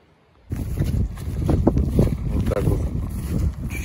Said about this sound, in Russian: Ветрище жесткое.